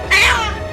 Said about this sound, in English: He cried and screamed but could not get out himself. He was crying very loudly.